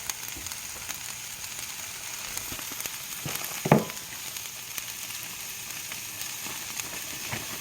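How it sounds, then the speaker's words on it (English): Onions caramelizing with added sugar sizzle softly and steadily in a pan, a constant faint crackle broken by one brief louder scrape of stirring. "they're already starting to caramelize"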